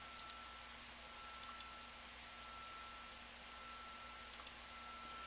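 A computer mouse in a quiet room clicks faintly in a few quick pairs, set over a steady low hum of computer fan noise.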